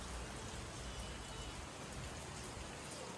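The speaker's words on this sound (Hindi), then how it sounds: "और बारिश तो बट हल्की हल्की हो रही है।" Light rain falls as a soft, even hiss that stays constant throughout, faint and unbroken, with no voices.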